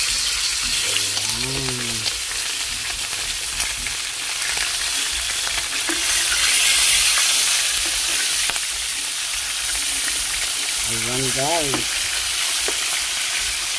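Tulingan tuna, a mackerel tuna, frying in a pan for Visayan-style escabeche, giving a steady broad sizzle throughout with faint voices briefly heard at the start and near the end.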